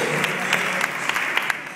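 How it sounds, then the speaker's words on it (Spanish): An audience at a Hermosillo event keeps clapping warmly, a brief burst of crowded applause with a few sharper individual claps standing out. "Calurosísimo aplauso."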